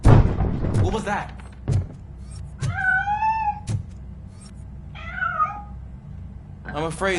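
A cat in the RoboCop: Rogue City video game gives two clear meows a couple of seconds apart amid heavy metallic footsteps and thuds nearby.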